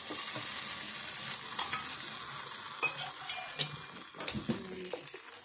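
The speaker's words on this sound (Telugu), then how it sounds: "చట్నీ తాలింపు వేసేస్తున్నా" Crackling sizzle of hot tempering oil poured into coconut and chana dal chutney, with spoon clinks and stirring taps, close and fairly quiet.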